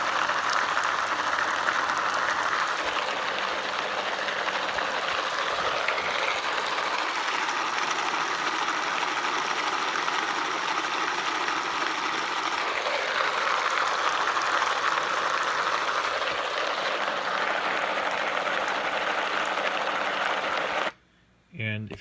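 A 3D-printed rover gearbox driven by a motor at 5,000 electrical RPM gives a steady, loud mechanical whir and rattle for about twenty seconds, then cuts off abruptly near the end.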